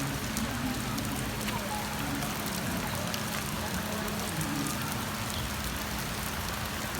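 Steady rain patters on a covered tennis court whose roof is leaking, a continuous dense wash of drops with no breaks, even and close throughout.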